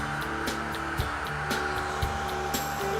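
A dryer blows steadily on a freshly weathered Broadway Limited NYC J-1e Hudson model steam locomotive, making a constant close whirring drone with a faint, regular pulsing beat running through it.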